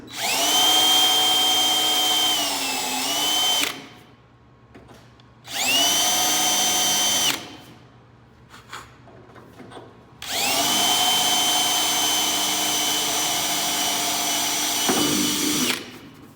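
A power drill boring a 1/4-inch hole through a carbon fiber car door with a slightly dull bit, loud and close in three whining runs of a few seconds each, with brief quiet gaps between.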